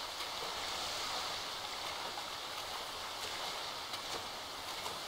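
Steady rushing, splashing water from swimming in GTA 5, a continuous broadband wash at moderate level with no talking.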